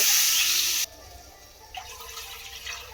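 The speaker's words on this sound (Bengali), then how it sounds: "2 বাটি জল দিয়ে দিলাম।" Water is poured from a bowl into a potato and semolina batter, a loud rushing splash that stops abruptly, then faint stirring and dripping follows.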